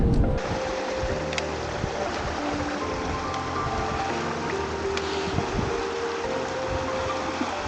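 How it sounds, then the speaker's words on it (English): Glacial meltwater creek rushing near a glacier at a crossing point on a mountain traverse, a steady broadband roar of flowing water with occasional louder splashes, close and continuous. "we're preparing to cross the creek"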